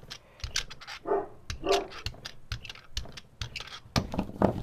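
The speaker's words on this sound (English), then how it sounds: "barking at my squeaky brayer" A dog barks several times in short bursts at a squeaky brayer, fairly close, with intermittent clattering and rustling in the background.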